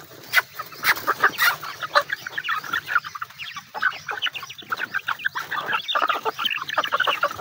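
Chickens and Aseel roosters cluck continuously in a busy, close flock, with overlapping calls and squawks filling the scene at evening on a farm.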